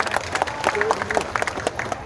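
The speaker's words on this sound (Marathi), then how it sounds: "त्यांचे जोरदार टाळ्या आपण स्वागत करूया" Crowd applause at a road-blockade protest rally welcoming arriving guests: a short burst of dense, steady clapping from many hands, moderately loud, with faint voices mixed in.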